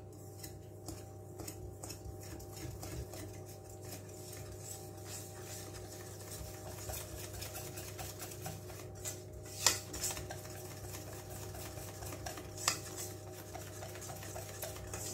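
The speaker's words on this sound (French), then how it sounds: "Alors déjà une et je mélange." A whisk or spoon stirs milk into a crustless quiche batter in a bowl, a quiet close-up of soft scraping and clinking taps with a steady hum in the background and no talk.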